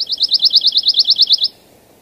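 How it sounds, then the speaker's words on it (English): A pine warbler sings a sweet, clear trill of about fifteen rapid, evenly spaced notes over roughly one and a half seconds, loud and close, then stops into near silence. "It's a sweet trill, and by that I mean it doesn't sound raspy in any way, it's not rattly. It's very clear,"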